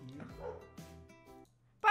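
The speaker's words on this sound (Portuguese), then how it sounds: "Para de latir, Razor!" A dog barks and whimpers indoors in short bursts mixed with people talking, closing with a sharper, louder yelp at the end.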